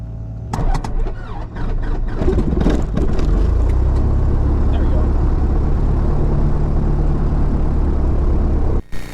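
Light aircraft engine cranking and catching, then settling into a loud steady throb as the throttle is eased in, with a pilot talking over it at close range.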